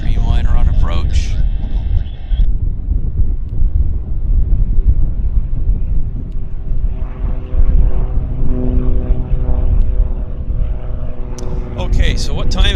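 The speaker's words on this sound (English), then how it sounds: "Dreamliner on approach." A Boeing Dreamliner airliner on approach at Vancouver airport gives a steady, broad engine roar heard outdoors from a distance, buffeted by wind noise on the microphone.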